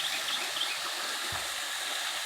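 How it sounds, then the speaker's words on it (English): Steady broadband rush of a waterfall in a canyon, running full after overnight rain, heard from a distance as an even, continuous hiss with no voices. "Over there's the waterfall"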